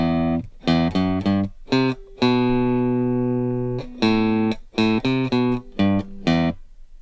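Guitar plays a riff, clean plucked notes in short rhythmic groups around one long sustained tone, close and clear with no talking.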